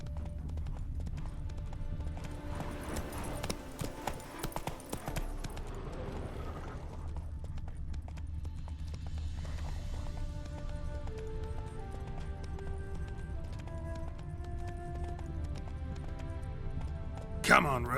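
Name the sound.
horse Roach hooves in video game Witcher 3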